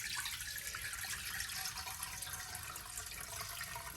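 Hot homemade chicken stock pours steadily through a strainer, a continuous close hiss of flowing liquid with no pauses for the full length.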